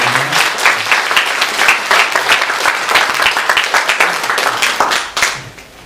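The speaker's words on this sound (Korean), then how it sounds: "우리 모두 박수로 환영하겠습니다." Church congregation at a Sunday service applauding to welcome a newcomer, a dense, steady burst of many hands clapping at close range that fades out near the end.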